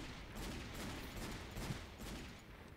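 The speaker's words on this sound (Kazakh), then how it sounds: "Тоқта, онда мылтықпен атып көрейік." Rapid gunfire from a gun in the Minecraft video game, a dense, steady fusillade of quick repeated shots running throughout, quiet and continuous.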